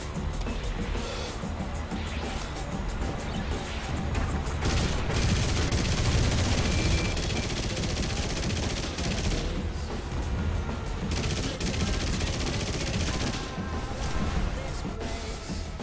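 Dense, continuous anti-aircraft gunfire and fusillade in War Thunder, heard from a Yak-1B fighter cockpit: loud sustained bursts and booms layered over engine roar throughout, with no clear pauses.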